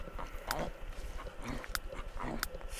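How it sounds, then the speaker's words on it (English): Dog barking in The Sims 3 life-simulation game, a few short sharp barks spaced across a busy stretch of background game sound. "Bark at someone."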